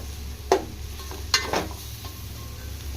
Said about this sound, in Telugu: ఒకసారి బాగా మిక్స్ చేసుకోండి.